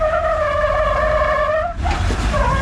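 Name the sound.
Jeep climbing off-road obstacle at Moab with throttle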